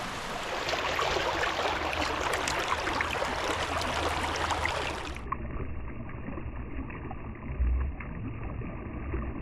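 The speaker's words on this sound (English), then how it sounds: "It's just a little bit icy and flowing" Icy Hay Creek at Birdsboro Quarry flowing in winter, a steady broad rush of water close by that continues throughout, turning somewhat duller and muffled partway through, with no talking.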